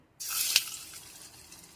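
Raw jackfruit kofta balls drop into hot oil, setting off a sudden bright sizzle that flares with a quick pop, then settles into a softer, fading crackle.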